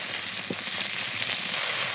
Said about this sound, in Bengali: এখন পানি দিয়ে মশলাটা ভালোভাবে কষিয়ে নেবো